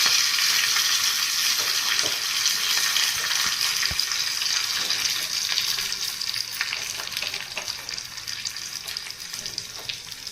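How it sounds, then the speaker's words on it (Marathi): Hot oil tempering of cumin seeds, curry leaves and salt poured over chutney sizzles loudly and densely up close, with a busy crackle that eases slightly toward the end. "चटणीवर फोडणी द्यायची."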